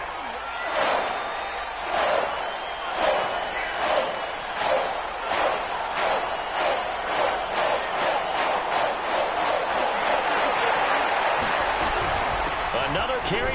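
Stadium crowd in a PS4 football video game roars steadily throughout, with rhythmic rising chants and claps pulsing over a sustained cheer and commentary-style talk.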